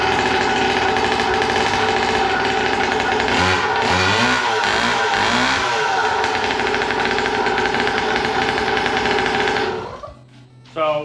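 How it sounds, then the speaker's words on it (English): A dirt bike fitted with a weedwhacker engine runs with a very loud, buzzy exhaust, a harsh high-pitched drone with a few revs rising and falling, then it suddenly cuts out near the end. "The exhaust is just really loud."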